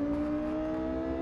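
Porsche Carrera GT engine at a steady, high-pitched drone at Hockenheimring in Real Racing 3, a loud, sustained racing tone, near, with no talk over it.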